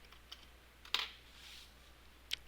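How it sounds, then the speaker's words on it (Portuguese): Faint keystrokes on a computer keyboard, just a few sparse clicks with one sharper tap near the start and another near the end, over a quiet background hiss. "Sua Alteza à noite está digitando."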